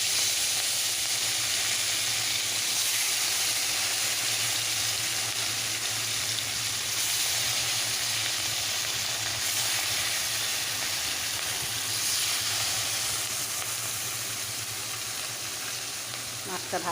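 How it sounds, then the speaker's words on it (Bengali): Rui fish fries in hot oil in a wok, a steady loud sizzle and hiss that continues throughout without pause. "মাছটা ভাজছি"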